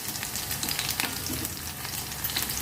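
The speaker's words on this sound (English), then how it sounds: "I think it needs little more frying and boiling." Bottle gourd skins fry in a pan with a steady, dense sizzle and crackle that continues without a break, close and moderately loud, with no voices.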